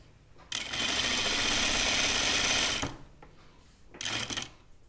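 A sewing machine stitching caftan dress fabric, a fast close mechanical whirring run of about two seconds, then a pause and a shorter burst.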